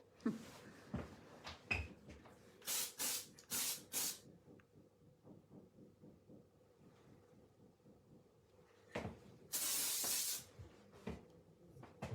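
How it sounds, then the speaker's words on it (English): Hairspray spritzed onto a freshly cut graduated bob, several short hissing bursts in a quick run followed by one longer spray after a pause, close and crisp in a quiet salon. "I will have to use a little hairspray then"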